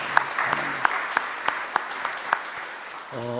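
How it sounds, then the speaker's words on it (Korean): A church congregation at Sunday worship gives a round of applause, an even crowd clapping with several sharper individual claps cutting through at regular intervals before it dies away. "하나님께 영광의 박수 드릴까요?"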